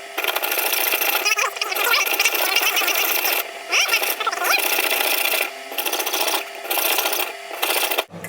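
Fine jeweller's saw blade rasps steadily through metal while piercing out the inside of a turquoise pendant, a close, continuous scratchy sawing broken by several short pauses.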